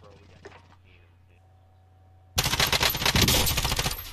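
Rapid automatic rifle fire in Call of Duty Warzone, a loud sustained burst of shots starting abruptly after a quiet stretch with faint background sounds.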